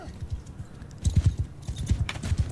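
Pony hooves clip-clop in Mount & Blade II: Bannerlord, a quick uneven run of close, bright hoof strikes that grows louder and busier in the second half, with no talking.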